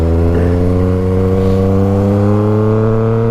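A Yamaha XSR900 motorcycle engine runs loud and close, its steady rumbling drone holding a fairly even pitch with slight rises for about three seconds, with no voices over it.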